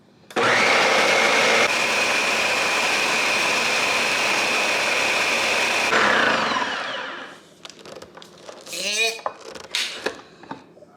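A kitchen blender whirs loudly and steadily for several seconds while mixing a low-calorie recipe, then winds down, followed by faint clattering and a voice.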